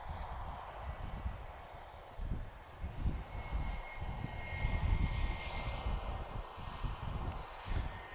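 An Airbus A321-231 jet arrives at Lisbon Airport as Delta flight 84277 from Stockholm, heard as a moderately distant, rumbling engine roar that swells and ebbs with a faint high whine running through it.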